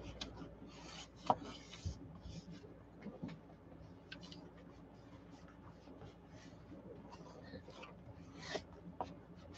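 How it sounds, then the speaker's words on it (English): Paper pieces of a lapbook being rubbed down hard by hand, a quiet, continuous scratchy rubbing with small scuffs and taps, close and faint. "Rub it really hard and then push."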